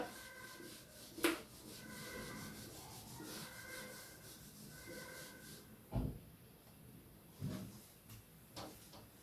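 A pencil drawing on paper is rubbed out with an eraser in short back-and-forth scrubbing bursts, quiet and close, with a few sharper taps, as in engineering drawing practice.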